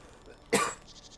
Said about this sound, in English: I don't know where that cough came from